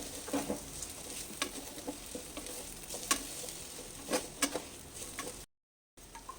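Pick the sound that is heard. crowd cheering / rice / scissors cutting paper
rice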